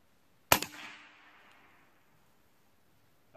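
A Benjamin Bulldog air rifle with a power tune fires a single sharp, loud report shooting JSB pellets, followed by a short fading ring, then quiet.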